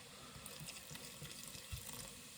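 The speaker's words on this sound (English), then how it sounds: "Right, chocolate stout. Don't overdo it with this. I'm only going to pour in here." Chocolate stout poured from a 500ml bottle into a dish while a beef brisket suet pudding is being made, giving a soft, quiet, steady trickle and splash with no talk over it.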